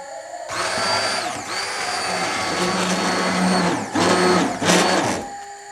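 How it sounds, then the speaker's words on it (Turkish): A hand blender purees turmeric lentil soup, giving a loud, close, continuous whirring motor drone with short pauses and restarts near the end. "Ve şimdi mikserle blenderla biraz çekeceğim."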